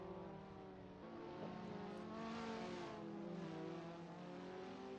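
KTM race cars pulling away at the start of a race in a racing video game, several engines droning and rising in pitch together, steady and fairly faint.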